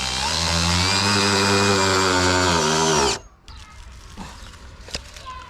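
A power tool drives structural wood screws into timber while building a wooden ceiling, whining loud and steady for about three seconds before stopping, followed by faint knocks and clatter.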